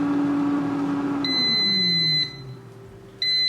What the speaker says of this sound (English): We had the final beep.